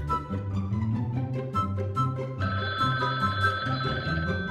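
A telephone rings with a steady repeating electronic tone, loud and close, playing over low background music with no talking.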